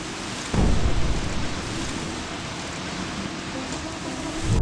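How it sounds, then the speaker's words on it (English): Roaring tornado winds during the 2011 Joplin EF5 tornado as an oil tanker ignites, heard as a steady, dense rumble of rushing wind with a heavier low thump near the start and a constant broadband roar throughout. "Storm chasers record as an oil tanker ignites."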